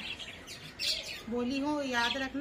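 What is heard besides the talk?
pet bird chirping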